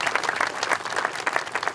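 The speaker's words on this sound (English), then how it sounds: "just a round of applause for those that brought the funding and made this possible." An audience at a ribbon-cutting ceremony for the Waterloo River Light Experience applauds with dense, continuous clapping from a crowd nearby.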